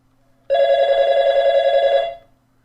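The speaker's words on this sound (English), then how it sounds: "You're going to have to excuse me, that's the phone." A telephone rings once, a steady electronic trill lasting about a second and a half, loud and close with no voices over it.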